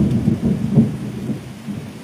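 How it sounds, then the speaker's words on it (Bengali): Thunder rumbles low and deep during heavy rain over the Sundarbans, a short rolling growl with a couple of swells that fades toward the end. "মেঘ কীভাবে ডাকছে"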